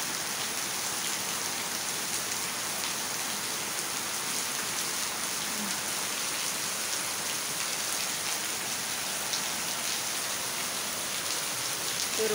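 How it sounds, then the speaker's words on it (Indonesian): Steady rain pours down at a school, a dense, even hiss of drops drumming on surfaces that continues without pause, close and constant with no voices. "Seru ya hujan di sekolah."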